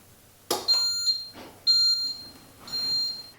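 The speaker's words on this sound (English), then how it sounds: "That's the beep telling us that the Instant Pot is ready for its saute." Instant Pot Mini electric pressure cooker beeping to signal it has heated and is ready to sauté: a short series of clear, high electronic beeps in a kitchen, alone without talk.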